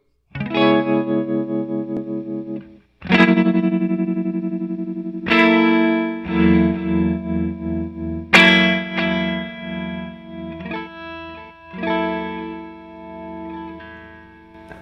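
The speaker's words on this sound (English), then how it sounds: "so far I've heard like a tremolo thing, a delay thing, an envelope thing, a reverse thing. Yeah, they're chorusy at first." Electric guitar chords ring through a Backline Engineering FX Tracker effects pedal, shimmering with chorus, distortion and modulated echoes; several separate strummed chords swell and decay in turn, loud and close with no talking.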